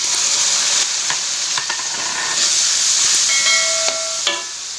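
A little water poured into a hot pan of stir-fried genjer (yellow velvetleaf) with anchovies, bursting into a loud, steady sizzle and hiss close by, with scraping stirring clicks and brief tonal squeaks of a spatula against the pan.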